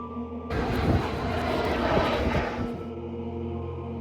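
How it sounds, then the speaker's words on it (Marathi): A loud roar of Indian Air Force military aircraft engines swells in suddenly overhead, rumbles steadily for a couple of seconds, then cuts back to a lower hum. "आभाळातून कर्णभेदी घरघर ऐकू आली भारतीय वायुदलाची विमानं दक्षिणेकडून घोंगावत येत होती"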